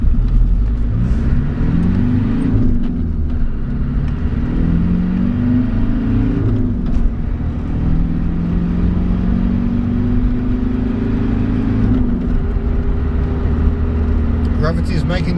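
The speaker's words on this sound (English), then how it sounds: "I feel an acceleration test coming on." A Land Rover Discovery 1 with the Tdi 200 diesel accelerates uphill from inside the cabin, its engine droning and climbing in pitch through several gear changes, with a steady rumble throughout and occasional talk over it.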